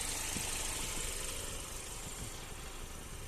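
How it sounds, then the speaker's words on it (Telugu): A 2020 Hyundai Creta SX 1.5 diesel idles with a steady, low rumble and faint rhythmic clatter, heard alone at moderate volume. "ఇంజన్ సౌండ్ మాత్రం ఈ విధంగా ఉందండి."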